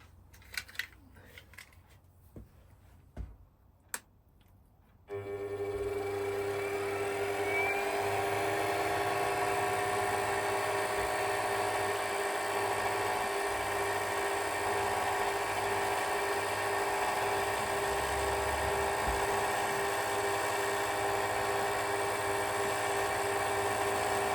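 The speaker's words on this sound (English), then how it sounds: "I'll use the fine feed to do the actual drilling" A lathe on fine feed drills into a steam boiler tube, a steady mechanical whir with a low motor hum running continuously after a few sharp clicks and knocks at the start.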